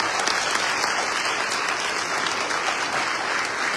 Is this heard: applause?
yes